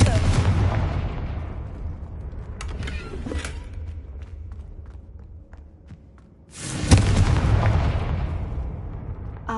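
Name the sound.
Confringo spell explosion in video game Hogwarts Legacy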